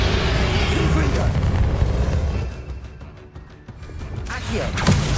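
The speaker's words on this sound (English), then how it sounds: "Confringo." A Confringo fire spell in Hogwarts Legacy bursts in a heavy, rumbling explosion that fills the first half, then fades into a lighter crackle before another whoosh rises at the end.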